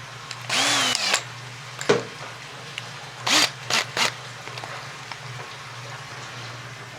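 A power drill with a sharp bit cutting into plastic in a workshop, heard as several short loud whirring bursts of varying length separated by pauses, over a constant low electrical hum.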